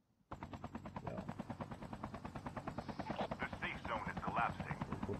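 Helicopter in the Call of Duty Mobile video game, a steady rapid rotor thumping that starts abruptly and continues loud and close throughout, with a few sharper bursts layered on top.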